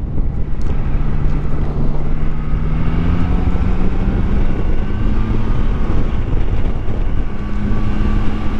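A Triumph Tiger Sport 660, the full 81-horsepower version, rides on the road with a loud, steady engine drone buried under heavy wind rush for the whole stretch.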